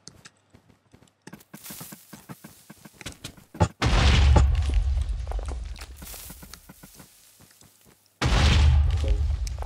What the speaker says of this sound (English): I keep exploding somewhere, even everywhere I go. An explosion.